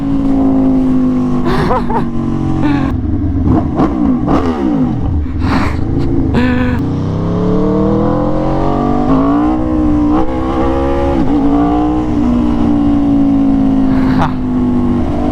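An Aprilia RSV4 Factory sport motorcycle accelerates hard and close, its engine revving up and dropping back repeatedly in a loud, continuous snarl.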